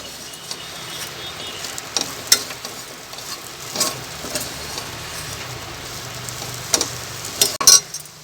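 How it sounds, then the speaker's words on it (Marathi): Cluster beans (gawar) and potatoes with crushed peanuts frying in a pan, giving a steady soft sizzle with intermittent scraping stir clicks and a few sharper spatula knocks near the end. "एक पाच मिनटं परतून गवार घालून घेऊ"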